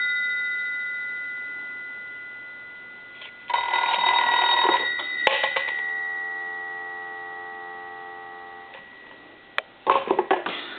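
A rotary desk telephone's bell rings loudly in a couple of sustained bursts, separated by a pause, with a few clicks and clatters in between.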